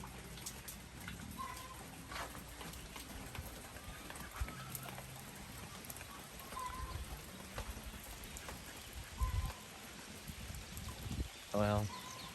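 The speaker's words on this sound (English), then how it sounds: "On this rainy day." Steady rain falls on a farm on a wet day, a continuous hiss of drops under intermittent talk, with a few louder splashes and a brief clatter near the end.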